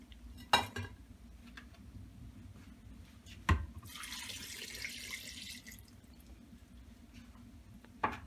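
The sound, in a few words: pouring hot liquid over masa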